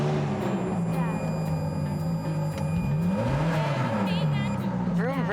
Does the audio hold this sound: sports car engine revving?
yes